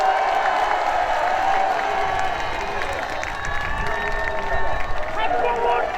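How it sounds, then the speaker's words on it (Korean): Large outdoor crowd applauding and cheering at a Save Korea national emergency prayer rally in Yeouido, near Mapo Bridge, with steady dense clapping and shouts sustained for several seconds under a loud amplified voice. "전한길 선생님을 위해서 다시 한번 큰 응원의 박수 부탁드립니다"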